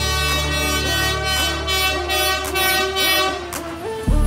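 A passing train in Hanoi sounds a loud, sustained horn with shifting tones, blaring almost continuously with heavy rumble underneath before a sharp burst near the end.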